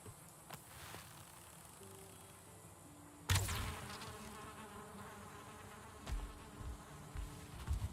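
Bees buzz around a hive in the survival game Valheim, a steady insect drone with a sharper burst partway through and a few swells near the end.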